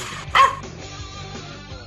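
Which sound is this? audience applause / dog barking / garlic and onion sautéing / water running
dog barking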